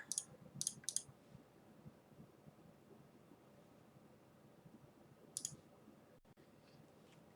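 Sharp mouse clicks during an online Magic: The Gathering match, a quick cluster of three or four near the start and another pair a few seconds later, crisp and close over a faint steady background hiss.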